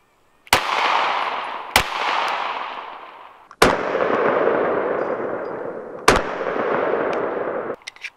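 Glock 43 subcompact 9mm pistol fired twice, with two sharp reports each trailed by a long ringing tail, close and loud, followed by two more sharp impacts.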